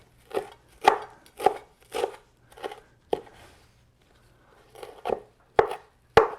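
Fresh parsley is chopped with a knife on a cutting board in a steady run of crisp, close thuds, about ten strikes with a short pause partway through.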